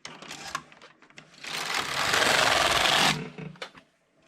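A Passap E6000 knitting machine carriage sweeps across one row with a loud, sustained mechanical whir and rattle lasting about two seconds, bracketed by a few lighter clicks before and after.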